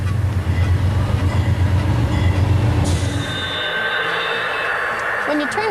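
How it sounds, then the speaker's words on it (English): A train rumbles heavily, then the roar drops off, leaving a lighter metallic ringing and a faint squeal, with a voice murmuring briefly. "It takes a long time for a real train like this one to stop."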